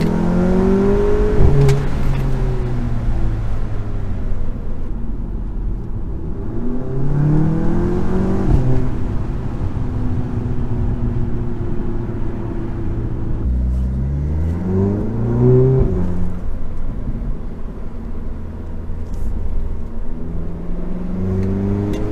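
Audi A3/S3 with turbo inlet pipe and muffler delete, heard from inside the cabin with the sunroof open: repeated engine revs rising and falling through gears, a steady drone with faint turbo whistle woven in.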